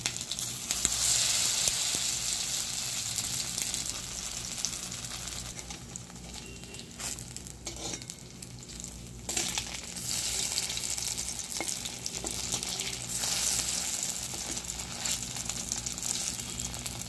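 Boiled egg fritters dipped in a thin cornflour batter fry in hot oil, giving a steady, dense sizzle that bubbles and crackles up close for the whole stretch, with no voices.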